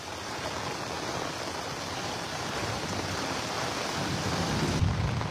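Heavy rain pours steadily during a flood in Sylhet city, a dense, even hiss with no break, and no distinct thunderclap stands out.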